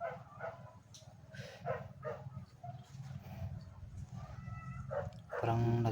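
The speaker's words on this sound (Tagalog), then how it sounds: "May narinig kaming tahol ng aso" Dogs bark repeatedly outdoors at fairly close range, irregular yips and barks with some whimpering, louder toward the end, over low background rumble.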